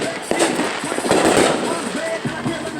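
Backyard fireworks from a small home show crackle and pop in repeated bursts, with a denser crackling flurry midway, while people talk nearby throughout.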